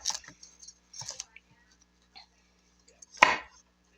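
Broccoli being chopped on a board makes a few separate close knocks and clicks, spaced by quiet pauses, ending in one louder crunching cut.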